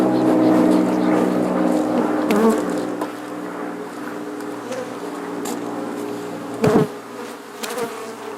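Honey bees buzz around a beehive frame in a dense, close, humming drone that is loudest at the start and eases off. A couple of bumps and knocks are heard near the end.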